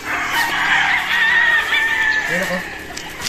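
A gamefowl rooster crows in a long, strained call at close range, followed by a few low clucks near the end, with no other sounds over it.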